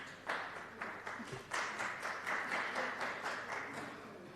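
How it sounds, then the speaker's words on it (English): Hand clapping during a legislative house sitting: a steady patter of a few pairs of hands at moderate distance, keeping up for about four seconds with no talk over it. "So who's clapping hands?"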